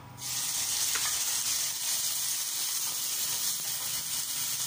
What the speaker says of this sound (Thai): ให้กระทะร้อนนะคะ ใส่หมูลงไปนะคะ